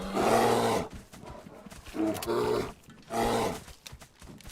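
Three loud, rough roars from a bear in a DayZ S.T.A.L.K.E.R. roleplay game come one after another, each lasting about a second, with short quieter gaps between them.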